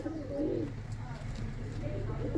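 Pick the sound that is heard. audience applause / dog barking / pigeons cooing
pigeons cooing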